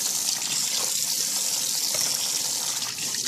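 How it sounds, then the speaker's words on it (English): Tap water runs steadily into a sink while a Roomba part is rinsed, a close, continuous splashing gush with no talk. "I'm going to rinse this."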